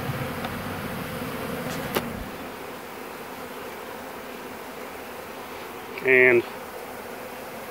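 A swarm of honey bees hums softly and steadily in the open air, a quiet continuous buzz, with a short mechanical whine rising briefly near the end.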